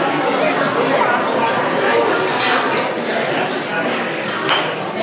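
Champagne glasses clink in a toast over a busy breakfast restaurant at Cinderella's Royal Table, Magic Kingdom, with steady chatter and tableware clatter throughout; a bright clink stands out near the end.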